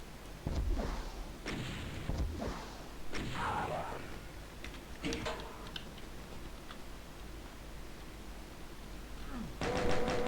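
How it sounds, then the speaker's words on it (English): Rocket launcher blasts in Doom 2, several sharp booming shots spaced a second or two apart, each followed by a short rumbling explosion, with a burst of clicking game sounds at the end. "I do have a rocket launcher now. That's probably the best way to deal with these guys."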